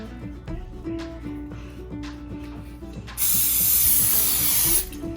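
A ratcheting mechanical clicking, then a loud, steady hiss of oil spray onto a frying pan lasting about a second and a half, close by.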